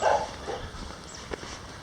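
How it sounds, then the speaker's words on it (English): Dogs along a rural walking route between Santarem and Fatima in Portugal let out a short burst of barking at the start, then quieter yips and a single sharp bark, mid-distance and fairly faint. "Oh, there's some dogs."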